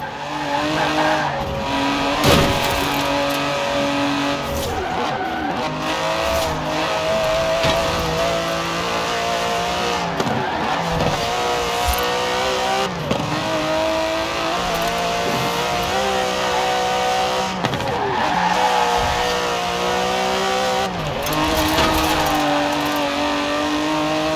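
An Aston Martin DB11 drives in the racing game Forza Horizon 4, its engine droning and revving steadily with repeated gear-shift dips and tire squeals, loud and continuous with no talk.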